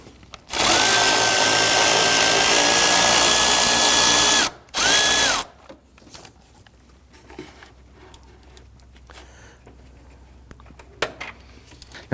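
Power tool loosening radiator mounting bolts on a 2010-2019 Ford Taurus, a loud steady whine running about four seconds, a short pause and brief second burst, then quiet light clinks and handling noises.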